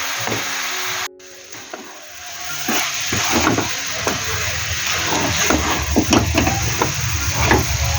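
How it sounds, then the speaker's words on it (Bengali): Grated coconut cooking with jaggery in a pan, a steady close sizzle with scraping and stirring knocks that starts after a brief cut and continues evenly to the end. "তো এখন গুড় দিয়ে এখন এটা জাল দিচ্ছি নারকেলের কুটটা বানিয়ে নিচ্ছি"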